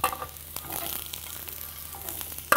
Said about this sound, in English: Fry for a few minutes until that raw flavor is lost.